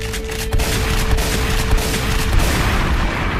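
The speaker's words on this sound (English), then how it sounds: "perfect four shots and it's out" Loud, close gunshots crack in quick succession while hunting the legendary white bison in Red Dead Redemption 2, over a dense roar of echo and ambience.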